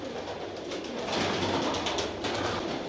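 Sialkoti pigeons at feeding time give soft, close cooing over a steady bed of rustle and flutter in a short, continuous stretch.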